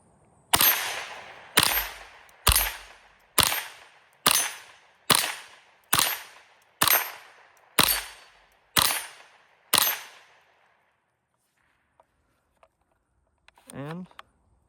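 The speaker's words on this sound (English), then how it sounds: "I've got it loaded up with another 11 rounds. See what we can't do here." Savage A22 semi-automatic rifle chambered in .22LR firing eleven sharp, evenly spaced shots about one second apart, loud and close with short decays, then quiet apart from faint clicks and a brief voice at the end.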